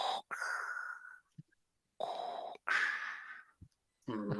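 A man imitates Darth Vader's mechanical breathing with his voice, producing several long, rasping inhale-exhale breaths in a steady rhythm, close and fairly loud.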